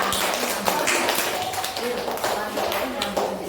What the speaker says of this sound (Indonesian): Kita tepuk tangan untuk kelompoknya Mbak Kansa.